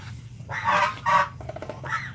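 Geese honk loudly and close by in a few drawn-out, nasal calls, one after another, alone without any talk.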